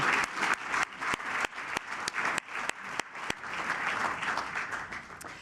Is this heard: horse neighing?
no